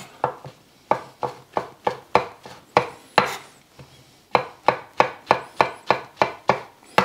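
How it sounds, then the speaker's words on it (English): A knife slices mushrooms thinly on a cutting board while ramen with pork is prepared, giving a close, steady run of crisp chopping taps in two bursts of quick, even strokes separated by a short pause. "Mushrooms we're going to slice up"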